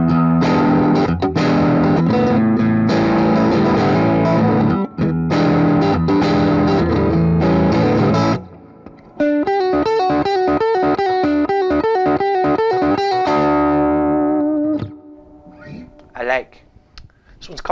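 Electric guitar played through the Checkmate amp model on a Positive Grid Spark, loud distorted strummed chords, then a brief pause before a run of cleaner picked notes and a fading final ring.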